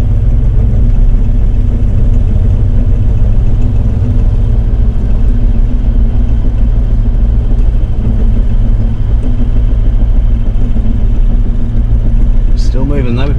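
Toyota Land Cruiser engine crawling slowly through a sand bog, a steady low rumble and whir with no revving, continuous and close throughout, with faint voices briefly near the end.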